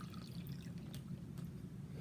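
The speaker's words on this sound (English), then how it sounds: "So I'm seeing how much water I can add to my bag" Water poured steadily into an airbag during a lab measurement, a soft continuous trickling and splashing with faint drip-like ticks, low and close, with no voices.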